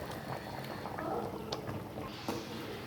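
Coconut paste going into a simmering mutton kola urundai curry, a quiet bubbling and a soft liquid patter with a few small splashes and clinks, close and low in level, and no one speaking.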